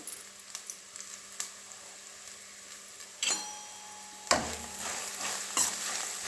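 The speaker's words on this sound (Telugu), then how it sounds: "ఒకసారి బాగా కలియబెట్టుకోండి కొబ్బరి నూనెలో వేగితే చాలా టేస్ట్ ఉంటుందండి" Grated fresh coconut being stirred as it fries in coconut oil, with a soft sizzle underneath and several louder scrapes of a spoon against the pan.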